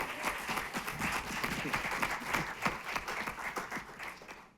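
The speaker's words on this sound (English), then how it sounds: "Can I get a round of applause?" Round of applause from an evening event audience for a judge, steady dense clapping throughout with a busy crowd texture, fading out at the end.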